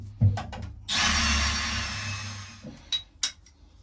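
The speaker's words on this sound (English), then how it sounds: "let's get drilling." Power drill bores through mounting holes in metal plates: a near, loud whirring burst of about two seconds, framed by a few short knocks and clinks before and after.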